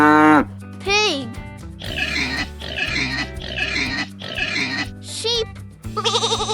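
A pig oinks in four grunting bursts over a steady backing tune, with playful whistle-like sweeps at the start and end.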